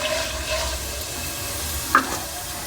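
Peanuts and dried chillies fry in a pan with a soft, continuous sizzling hiss and one brief crackle or pop partway through.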